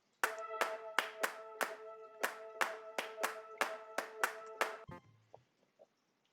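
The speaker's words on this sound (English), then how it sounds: "a very simple clap loop" A simple clap loop in a Logic Pro beat: about a dozen crisp, evenly spaced claps in a steady rhythm, close and prominent, stopping abruptly near the end.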